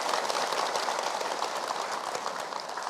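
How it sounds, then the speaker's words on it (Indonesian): An audience claps through a religious sermon gathering, a dense, even patter of applause heard alone at moderate loudness without pause. "Boleh tepuk tangan."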